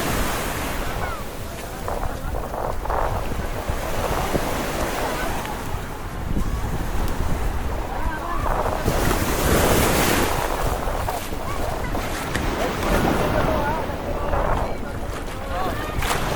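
Ocean surf rolls and crashes continuously on the beach at Bolinao, Pangasinan, loud and close with heavy wind buffeting the microphone, while people occasionally shout and talk over it.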